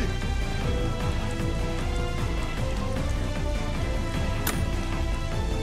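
Steady rain falls in the Twisted Wonderland game, a dense, even hiss of drops with a rumbling low layer beneath, constant and fairly loud throughout.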